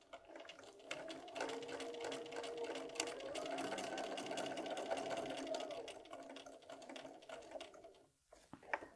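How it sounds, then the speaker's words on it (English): A sewing machine runs steadily for several seconds with a continuous rapid mechanical whir, then slows and stops near the end. "So I'm just going over to the sewing machine to do that sewing."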